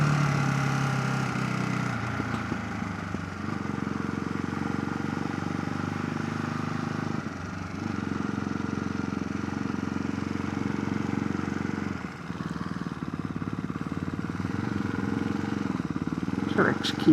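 A motorbike engine runs steadily on a trip through the Alps, a continuous mid-pitched drone with wind rush and brief dips in level, heard close and unbroken throughout.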